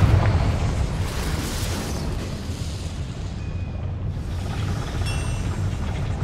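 A Confringo fire-spell explosion in the video game Hogwarts Legacy, a loud booming blast with a rumbling low roar that rolls on and slowly settles into a sustained crackling hiss.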